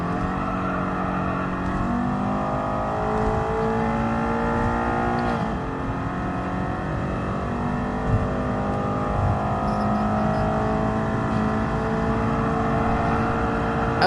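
Race car engines in Gran Turismo Sport, a loud steady high-revving drone with shifting pitch as another car pulls alongside and passes, continuous throughout.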